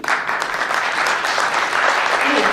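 An audience at a city council candidate forum claps steadily for a couple of seconds: dense, even applause that fills the room at full loudness.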